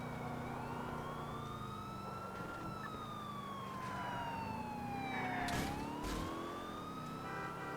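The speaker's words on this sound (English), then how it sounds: "Turn that annoying siren off." Police car siren in GTA IV, a steady wailing sweep that rises and falls continuously over engine and traffic noise, loud and close throughout the scene.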